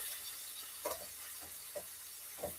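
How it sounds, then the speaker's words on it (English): Smoked red herring sautéing in a pan with other ingredients, a steady soft sizzle and hiss with a few brief louder stirring scrapes, close and alone with no talking. "we're sauteing some red herring and all this goodness right here"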